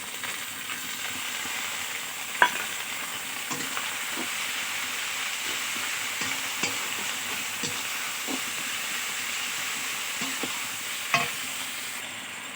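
Ginger garlic paste with ground cumin and coriander fries in a pan for spicy chicken, giving a steady close sizzle and hiss with occasional soft stirring scrapes.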